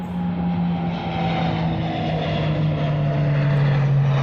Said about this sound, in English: there's a very loud airplane flying over behind me